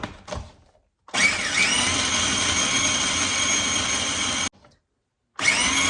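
A blender pulsing scotch bonnet peppers into a paste for hot sauce, heard as a loud motor roar in two long pulses with brief sharp stops between them, close and alone.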